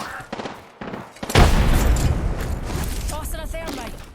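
A grenade detonates in a competitive online shooter: a sudden loud boom, then a rumbling low tail and scattered gunfire, with a voice talking over it.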